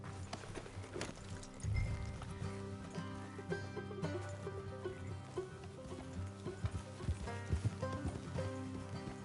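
Rhythmic clip-clop of horse hooves at a quick pace in the video game Red Dead Redemption 2, steady and fairly close, layered over a music score with no talking.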